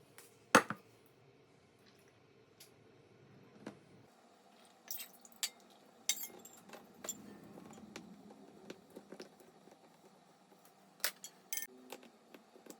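Liquid being stirred in a glass canning jar for tomato bruschetta preserving, giving faint, sparse clinks and soft sloshing taps in a quiet kitchen, with a few sharper glassy knocks scattered through.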